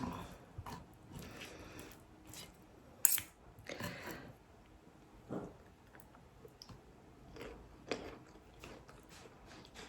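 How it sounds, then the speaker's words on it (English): A knife cuts burnt bits off the crust edge of a homemade pizza, giving faint scattered clicks and scrapes against a quiet background. "Any of these wee burnt bits in the edge, I'll just try and cut it off"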